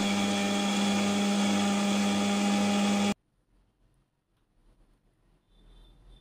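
Mixer grinder whirring loudly and steadily as it blends apple, dates and cooled boiled milk into a smooth baby food paste, then cutting off abruptly halfway, leaving near silence with faint movement.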